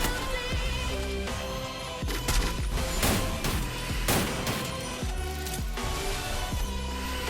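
Sniper rifle fire in an online shooter game, with a teammate using a double-sniper setup: sharp, fairly loud shots at irregular intervals over a dense, continuous music bed.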